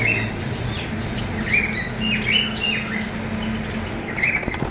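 Lovebird breeder pairs, including albino red-edge birds, give a scatter of short, sharp chirps and tweets over a steady background hum, fairly close and irregular.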